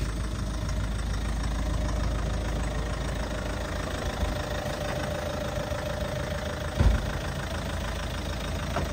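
A 2014 Chevrolet Cobalt (Gollaksi) car engine idles with the hood open, a steady low mechanical hum heard close and even, with one brief thump near the end and no talking.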